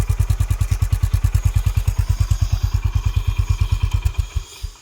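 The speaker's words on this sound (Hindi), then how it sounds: "बाइक दोस्तों एक क्रैंक में स्टार्ट होनी चाहिए, बाइक दोस्तों चालू रहने दो बाइक।" A Honda Highness CB350 motorcycle idles on its stand, a loud close steady thumping beat of even exhaust pulses that fades out as the engine is shut off near the end.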